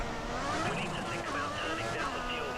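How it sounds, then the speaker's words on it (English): A Ferrari Formula One car's engine in the racing video game F1 2014 gives a steady, high, buzzing whine with shifting pitch, held continuously for a few seconds while someone talks over it. "I like how the Ferrari sounds."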